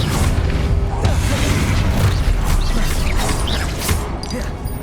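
Repeated booming fire spell blasts from the Hogwarts Legacy video game crash and rumble loudly in quick succession, layered with mechanical creaks and battle clatter.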